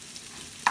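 Rice sizzles as it is sautéed in a hot pot, a brief, steady frying hiss that ends with a sharper crackle.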